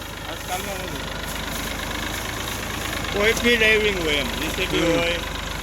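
A tractor pulling out of a sugarcane field onto the road runs with a steady, constant low engine rumble throughout, while voices talk over it near the middle and end.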